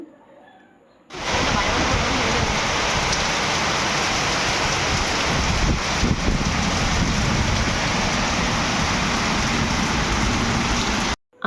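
Heavy rain pours outdoors under cloudy, stormy skies with gusty wind, a dense, loud, constant roar that starts abruptly after a second of quiet and continues unbroken until cutting off at the end.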